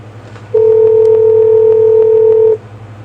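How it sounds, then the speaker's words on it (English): A single steady two-tone telephone keypad DTMF tone sounds loud and clear for about two seconds over a low hum, with no voices. "Dialing issues."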